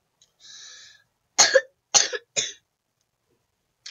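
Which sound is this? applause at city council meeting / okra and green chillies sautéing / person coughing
person coughing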